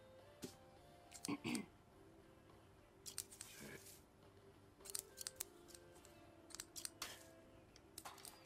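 Scissors snipping as weed buds are trimmed on a farm in the video game Life is Strange 2, quiet irregular clusters of metallic clicks and snips over faint background hum.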